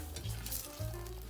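Tomato paste fries and sizzles in hot oil while being stirred, for a shrimp-head tomato pasta sauce. A close, steady crackle with two brief stirring swells runs throughout, with no talk.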